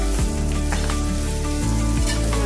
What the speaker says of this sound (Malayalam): നമുക്കൊന്ന് വഴറ്റിട്ടുണ്ട്.